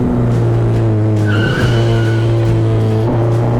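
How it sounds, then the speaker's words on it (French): A race car drifts around a track, its engine droning loud and steady while the tires skid and squeal continuously, the engine pitch wavering as it slides. "J'en suis même arrivé à un point où j'ai commencé à faire du drift."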